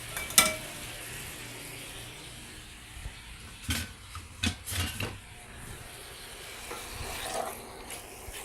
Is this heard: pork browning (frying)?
yes